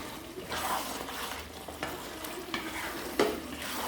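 Ghee stirred into a fish head and Gobindobhog rice murighonto in a pan, soft continuous sizzling with scraping strokes of the spatula and an occasional light tap, close and steady with no voices.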